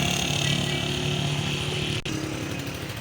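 Honda CD70 motorcycle engine, converted to run without a clutch, running steadily in gear with a close, loud buzzing putter and a brief dip near the end, no voices.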